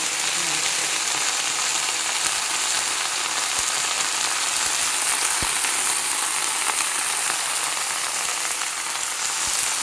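Mixed leafy greens sautéing in a pan for tambuli, a loud, even sizzle throughout with a few faint ticks of stirring.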